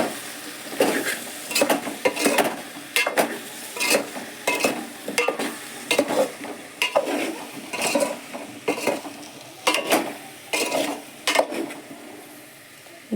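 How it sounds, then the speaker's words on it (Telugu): Boiled potato pieces being stirred into chili masala for potato curry, with repeated scraping and clinking of a spoon against the pan over a light sizzle, steady and close with no talking. "అంతా మిక్స్ అయ్యేలాగా కలుపుకుందాం."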